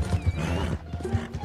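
Horse in Red Dead Online whinnying in a long wavering neigh over quick, close clip-clopping hooves.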